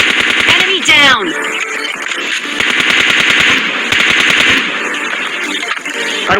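Automatic gunfire rattles in rapid bursts in a shooter video game, loud and close, with short pauses between volleys and game sound effects layered underneath.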